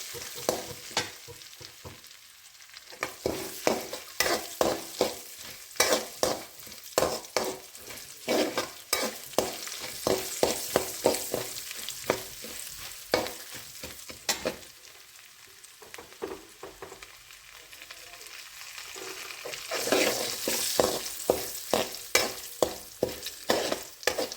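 Tomato rice masala sautéing in a pan, with repeated scraping stirs of a spoon over a continuous frying sizzle, rhythmic strokes close up and no talking.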